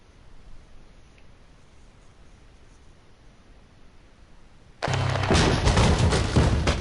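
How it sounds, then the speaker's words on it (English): Bombing explosions in the Max Payne video game burst in abruptly about two-thirds of the way through, a loud broadband roar of blasts and rumble after a stretch of quiet hiss. "They're bombing us."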